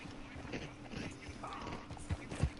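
Horse hooves in the video game Red Dead clip-clop softly at a walking pace, with a few sharper thuds near the end and faint mechanical clatter underneath.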